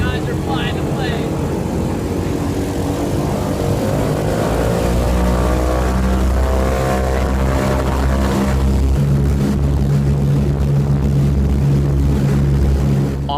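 Vintage B-17 Flying Fortress, a 34,000-pound four-engine propeller bomber, taking off, heard from inside near the pilots: a loud, continuous droning engine roar with beating propeller tones that rise in pitch as power builds.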